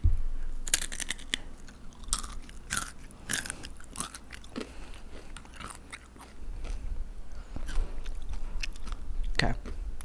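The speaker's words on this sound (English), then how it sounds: "Chew, mouth open," Close-up wet chewing and crunching with the mouth open, irregular bites and smacks repeating through the clip while low background noise hums underneath.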